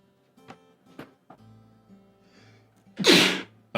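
A loud, sudden human sneeze bursts out close by, following scattered quiet sounds and faint background tones.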